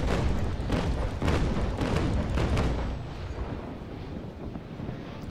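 Ship cannon fire from the Naval Action sailing game, a rapid run of heavy rumbling booms during the first three seconds that then fades into a low, windy roar.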